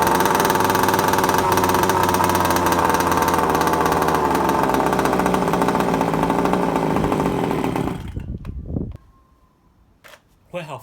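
A Rovan Baja 5B RC car's small petrol engine running just after a pull start, a loud buzzing two-stroke drone at steady revs that cuts off near the end, followed by a few faint knocks.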